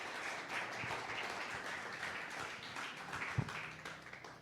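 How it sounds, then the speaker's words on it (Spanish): A church congregation applauds in praise during a Spanish-language sermon, a steady, even wash of many hands clapping at moderate, distant level with a few sharper individual claps near the end. "Denle un aplauso de alabanza al Señor."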